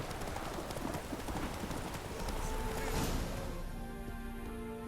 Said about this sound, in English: Esse cavalo no meio da pista